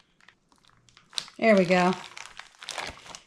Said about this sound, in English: We'll close the zipper most of the way.